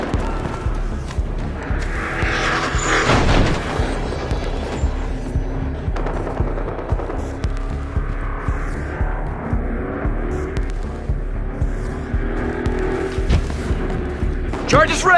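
A detonated charge explodes in the game Battlefield Hardline, a booming blast set in ongoing gunfire and rumbling action, with voices talking over the battle sounds.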